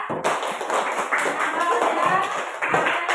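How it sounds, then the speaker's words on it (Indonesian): A classroom of children applauds for student groups, a dense, steady clapping that carries on for a few seconds with no pauses. "Beri tepuk tangan ke kelompok 1, 2, dan 3."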